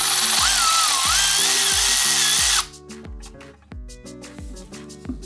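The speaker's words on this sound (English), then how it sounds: "So I'll do a demo with my ratchet." A Milwaukee M12 Fuel cordless ratchet spins with a high, steady motor whine, then stops and gives way to a series of sharp, rhythmic ratcheting clicks from close by.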